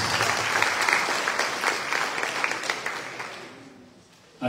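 A crowd in a hall applauds steadily at a ceremony opening the 2024 academic year in Chilca, a dense, loud wash of many clapping hands that holds for about four seconds before fading.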